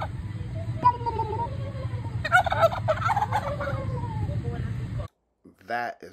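Turkeys gobble in a rapid, warbling burst, with several calls overlapping over steady outdoor background noise before it cuts off near the end.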